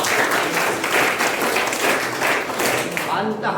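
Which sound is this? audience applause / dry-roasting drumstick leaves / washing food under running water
audience applause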